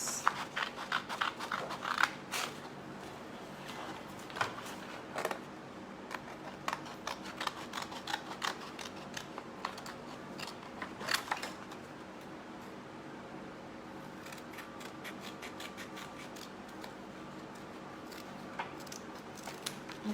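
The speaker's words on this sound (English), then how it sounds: "Just cut this." Scissors snip through paper strips for a handmade Mother's Day card, a series of sharp close clicks and crisp cuts in irregular bursts over a quiet room hum.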